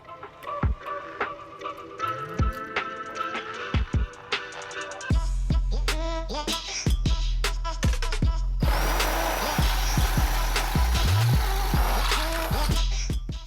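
Power drill whirring in repeated bursts, drilling holes in the underside of a 1967-1970 Mustang, with clanking and tool handling between, close and loud, later joined by a steady motor roar.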